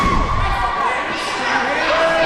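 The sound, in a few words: crowd cheering at wrestling event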